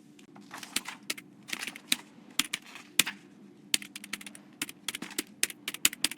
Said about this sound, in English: The librarian is torturing her keyboard.